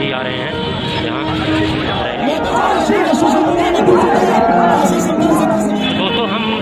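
A dense crowd gathered in Varanasi on the day of the Prime Minister's visit, with loud overlapping chatter and shouting voices filling the air alongside street noise and occasional vehicle sounds.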